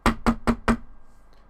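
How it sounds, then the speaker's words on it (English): Four sharp, evenly spaced knocks on the back of a van, loud and close, landing in quick succession and then stopping, followed by near silence. "knocks in the back of the van."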